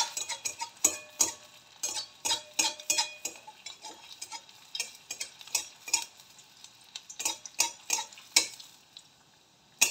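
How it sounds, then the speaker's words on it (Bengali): A papad kofta ball frying in hot oil, a steady sizzle broken by a run of sharp crackling pops and ticks that come in uneven bursts across the whole stretch, fairly close and with no talk. "প্রথমে অবশ্যই একটা দেব, একটা দিয়ে ভেজে দেখে নেব কোনো ত্রুটি হচ্ছে নাকি।"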